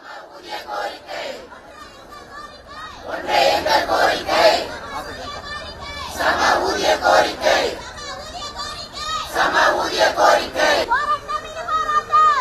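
Protesting intermediate-grade teachers chant slogans against the government, a crowd shouting in loud rhythmic bursts that swell and pause several times, with a lone voice leading between chants.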